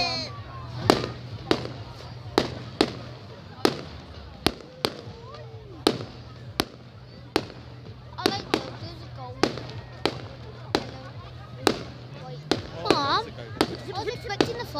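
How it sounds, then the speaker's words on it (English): Sharp fireworks bangs burst one after another, about fifteen loud cracks at irregular intervals, with people talking and murmuring in the background. "Fireworks, you know."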